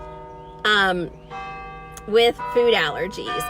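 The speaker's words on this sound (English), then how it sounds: "Church bells, sorry." Church bells ring in sustained, overlapping tones beneath someone speaking, her voice rising above the ringing in short bursts.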